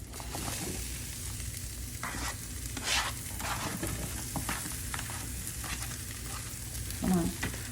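Zucchini, pepper and onion sizzle in a pan alongside charred corn, a continuous crackling fry with stirring scrapes and occasional utensil knocks, no talking.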